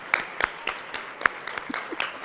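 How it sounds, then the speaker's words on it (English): Sparse, scattered claps from a small audience at a charity awards celebration and fundraiser, a few distinct hand claps spaced irregularly rather than a full ovation, fairly quiet. "Big round of applause, guys."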